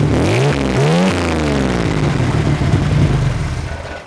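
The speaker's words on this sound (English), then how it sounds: "The turbos have a great sound." A Chevrolet Corvair Sport Sedan's turbocharged engine revs sharply twice, rising in pitch, then settles into a loud, rumbling idle close by.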